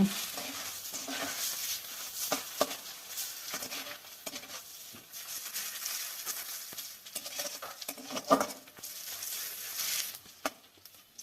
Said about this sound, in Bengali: পেঁয়াজটা আমি একটু লাল করে ভেজে নিব।